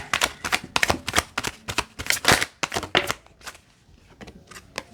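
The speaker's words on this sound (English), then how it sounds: "These cards are cut a little irregular, so they don't shuffle all that great" Oracle cards with slightly irregular cut edges are shuffled by hand in a quick series of crisp riffling bursts that thin out into sparser taps toward the end.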